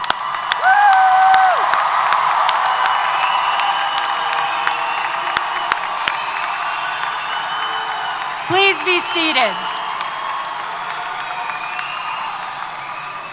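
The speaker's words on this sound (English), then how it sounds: "let's give you a big round of applause" A large crowd at a Texas A&M University-Corpus Christi commencement inside the American Bank Center gives graduates a broad wash of applause and cheering, with a voice speaking over the noise and a brief spoken line near the end.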